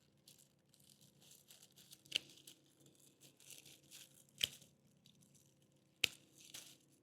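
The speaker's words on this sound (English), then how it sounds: "and then we're going to trim the roots" Roots being trimmed off freshly dug garlic bulbs: three crisp, sharp snips spaced a couple of seconds apart, set against faint crinkly rustling and handling noise.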